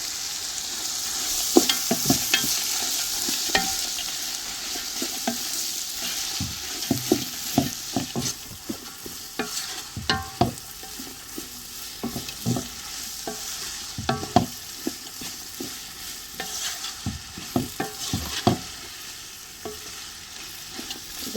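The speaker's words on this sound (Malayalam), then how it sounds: "ഇനി സവാള നന്നായിട്ട് പെട്ടെന്ന് വഴറ്റി കിട്ടാൻ വേണ്ടിയിട്ട്" Salted onions are sautéed in a pan for mutton biryani, a steady soft sizzle broken by repeated scraping clinks of a spoon stirring at an uneven rhythm, close up with no talking.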